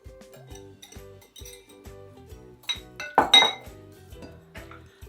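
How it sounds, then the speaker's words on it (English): A whisk clinks quickly and repeatedly against a bowl as eggs are beaten, with a bright, close, rhythmic tapping and a louder clatter midway. "I'm just going to give them a quick whisk before I put them in."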